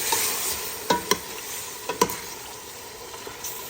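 Chicken is stirred in a sizzling pan while cooking ginisang manok with sayote, a steady close fry broken by a few sharp clacks of the utensil against the pan.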